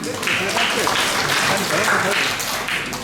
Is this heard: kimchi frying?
no